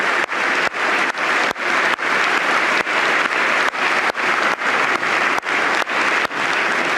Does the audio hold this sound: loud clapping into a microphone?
yes